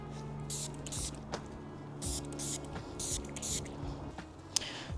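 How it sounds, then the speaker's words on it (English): Several short hissing sprays from an aerosol can of bug spray, in quick bursts with brief pauses, close by over quiet background noise. "let me grab some bug spray."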